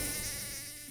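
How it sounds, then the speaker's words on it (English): A bumblebee buzzes close and steady, a continuous droning hum from its vibrating thorax muscles, with nothing else heard. "The buzz comes from the vibration of the muscles in the bee's thorax."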